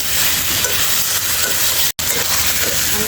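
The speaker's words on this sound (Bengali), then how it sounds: "ভালো করে নাড়া করে তেলের মশলার সাথে আলু পেটেলগুলো ভালো করে কষিয়ে নেব" Potatoes and pointed gourd stir-fried in spiced oil give a steady, close sizzling hiss with faint stirring scrapes, cut off by one very brief gap.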